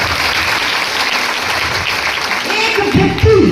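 A satsang audience breaks into loud, dense applause that holds steady for several seconds, with a voice rising over it near the end.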